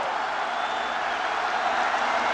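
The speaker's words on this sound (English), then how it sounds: "Crowd gets into it on 3rd and 6." A stadium crowd roars steadily at the 1993 Michigan vs Notre Dame college football game, a dense, distant wash of cheering and noise that holds for a couple of seconds without letup.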